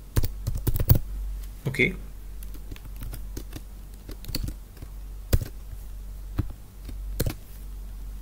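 Typing on a computer keyboard while working in a Travelport Smartpoint terminal: scattered, close key clicks and a few sharper strikes, with brief talk near the start.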